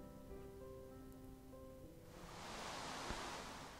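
Steady rain pours down in the Minecraft world of the Industrial Craft 2 mod, a soft hiss that swells and grows louder partway through, with a faint musical tone fading out early on and no talking.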